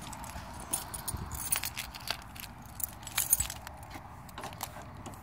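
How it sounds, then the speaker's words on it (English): Car keys jangle and clink close by as they are pulled out, in a run of bright metallic rattles with short pauses, over faint outdoor background and no talking. "Trying to get my keys out."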